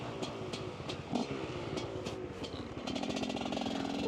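A Honda dirt bike engine revs while riding in snow, a buzzing, rising and falling two-stroke-like drone with rapid pulsing, close and steady throughout without talk.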